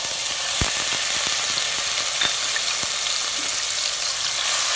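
Onion paste lands in hot oil with a whole cinnamon stick, cardamom and cloves, making a steady bright sizzle with scattered sharp pops and crackles up close.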